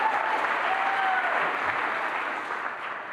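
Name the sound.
audience applause at an awards event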